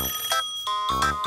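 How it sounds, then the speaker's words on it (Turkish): A cartoon telephone rings in bright, bell-like electronic bursts, three short rings separated by brief gaps, clear and close with no speech over them. "Telefon çalıyor."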